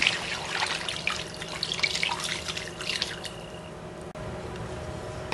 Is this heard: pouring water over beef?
yes